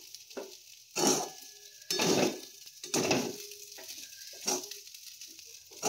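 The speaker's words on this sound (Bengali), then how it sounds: "চলো, এবার নেড়ে চেড়ে আমি নামিয়ে দেবো" Chirer polao, a flattened rice pilaf finished with pepper and ghee, is stirred in a pan with about five distinct scraping, sizzling bursts spaced roughly a second apart over a soft background frying hiss.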